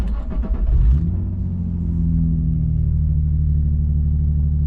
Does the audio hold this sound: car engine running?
yes